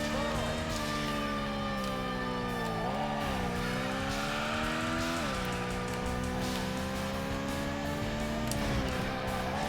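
Race car driven in the Tokyo Road Race video game, a steady droning engine note shifting pitch as it speeds up and eases off, with faint tire squeal, continuous and fairly quiet.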